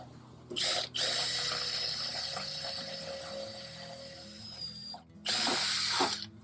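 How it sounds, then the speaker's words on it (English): A power drill whines steadily for several seconds while drilling a bolt hole in aircraft engine baffling, with a brief higher burst before and after the long continuous run, close and loud. "You drill a hole here and put a bolt through it"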